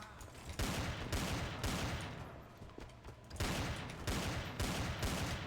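Nighthawk gunfire on the Dust map in a video game: rapid repeated shots land in bursts of about half a second, dense and fairly loud, with softer gaps between the volleys.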